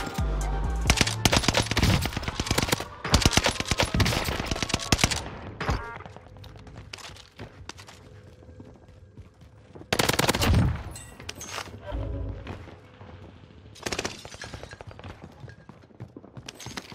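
Modern Warfare MP5 submachine gun fire in Warzone on Rebirth Island, with repeated rapid bursts of loud shots separated by quieter stretches of footsteps and game noise.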